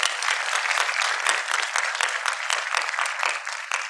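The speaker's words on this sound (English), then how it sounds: "A loud round of applause for ma'am, please" Loud, dense applause fills an awards summit hall as the audience claps for someone speaker, a continuous wash of many hands at close range, sustained throughout with slight swells and no voices on top.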